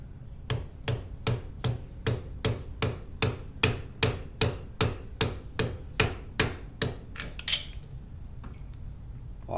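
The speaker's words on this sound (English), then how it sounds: "now we're gently gonna whack it with a hammer and lock that ring in" A hammer gently whacks a ring to lock it into place, about twenty sharp metallic taps in a steady, even rhythm, close and clear, before the strikes stop and a faint ringing tail lingers.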